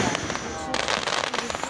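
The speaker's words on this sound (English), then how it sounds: "Marion Fireworks 2024." Fireworks at the 2024 Marion, Indiana show go off as a crackling run of bursts that start thin and swell into dense, loud popping and rumbling, with voices faintly mixed in.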